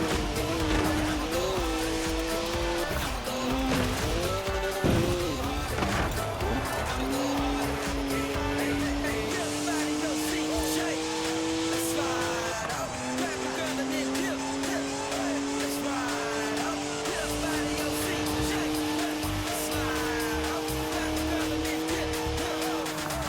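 BMW 3-litre straight-six twin-turbo with 335 horsepower driven sideways in Forza Horizon 4, engine tones rising and falling through gear changes amid tire squeal and skidding, loud and continuous.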